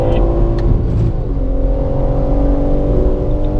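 A car accelerates hard on the COTA race track during a track day, its engine a loud, sustained, rising drone heard from inside the car, with the pitch dipping briefly before climbing again.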